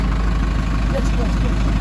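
A heavy tractor engine idles with a steady low rumble, close and loud, while hauling corn, with a voice faintly heard over it.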